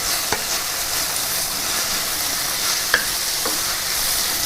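Payaru thoran, a green gram stir-fry, sizzles steadily in a pan while a spoon stirs it, with a few sharp taps against the pan; no one talks.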